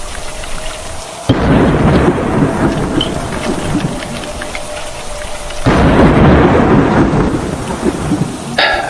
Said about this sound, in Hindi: ये बारिश रुकने का नाम ही नहीं ले रही।